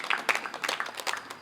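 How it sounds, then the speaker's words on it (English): Short burst of applause from an audience at a hospital staff awards ceremony, a loose patter of many hands clapping at moderate volume for about a second and a half. "Can we clap for the person before I mention the person?"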